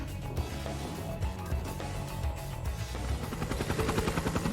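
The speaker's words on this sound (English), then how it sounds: "Why is there a helicopter? It's above us." A helicopter passes overhead in Trails of Cold Steel 3, a low rumbling drone with rhythmic rotor chopping that grows louder and more pronounced toward the end, sustained, with no talking.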